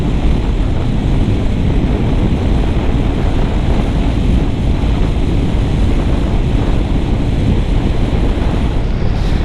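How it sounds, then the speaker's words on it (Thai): Strong headwind roars constantly into the microphone while riding a Honda Giorno 160 scooter, a loud, steady, buffeting rush that covers everything else, with no talking. "ลมแรงมากครับวิ่งทวนลมตั้งแต่ออกจากบ้านเลย"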